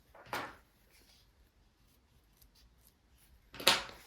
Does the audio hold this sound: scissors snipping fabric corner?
yes